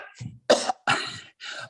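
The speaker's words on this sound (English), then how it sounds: "I coughed too much" Several loud, close coughs in quick bursts from a man, three or four harsh hacking fits separated by brief pauses, with no talk over them.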